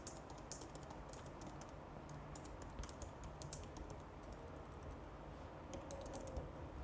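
Typing on a computer keyboard while entering a website name into a browser's password manager, soft rapid key clicks in an irregular stream at close range, fairly quiet, with no talking.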